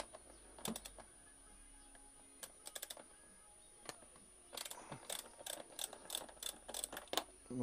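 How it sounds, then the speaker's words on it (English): A 10mm spanner ratchets and clicks on the tail tidy bolts of a Yamaha MT-125 motorcycle, quiet close-up metallic ticks in short irregular bursts, growing busier toward the end, with no talk. "So you need 10mm spanner on them, then you disconnect them."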